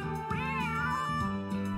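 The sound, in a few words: cat meowing in the video game Saku Saku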